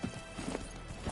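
Roach the horse gallops in The Witcher 3, a quick run of hoof clip-clops close by over a brief moment, faint speech in the background.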